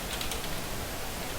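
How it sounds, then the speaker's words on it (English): Fast, quiet keyboard typing sits under a dense, steady hiss, the individual key clicks faint and blurred together over a short stretch. "we're just going to type Silent"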